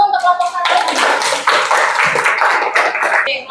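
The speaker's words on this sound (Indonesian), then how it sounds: "kita tepuk tangan dulu untuk kelompok 1" A classroom group claps for the first student group after their presentation, steady close clapping filling the room, with voices briefly heard at the start and end.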